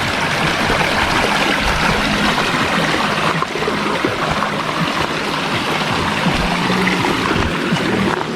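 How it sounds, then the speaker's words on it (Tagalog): Steady rushing water flows continuously, a broad close-up wash like a stream running over rocks, with no voices. "Nakakatawa yung tunog ng tubig"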